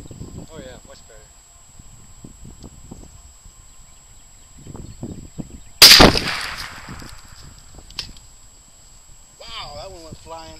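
A single loud, sharp gunshot fired at hard drives outdoors, sudden and close with a brief echoing tail, between stretches of casual talk.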